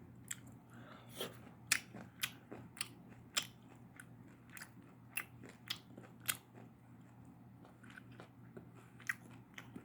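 Fried chicken gizzards being eaten plain without mayonnaise, with close, sharp crunching bites and chewing, separated by quiet pauses over a low steady hum.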